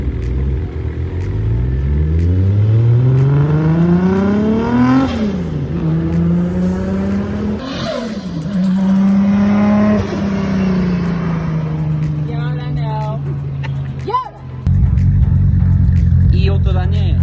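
A Nissan Z fitted with an RB26 engine revving hard and close, pitch sweeping up and down in repeated loud pulls before dropping back to a rough, steady idle.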